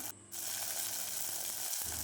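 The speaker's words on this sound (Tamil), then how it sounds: "நம்ம இப்போ வேக வச்சு அந்த கொள்ளு எடுத்து ஊற்றிக்கலாம்" Cooked horse gram hits a hot pan, bursting into a loud, close sizzle after a brief quiet moment; the hiss holds steady with a slight dip near the end.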